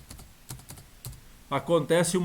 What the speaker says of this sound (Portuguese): na linha de comando eu digito agora o comando regen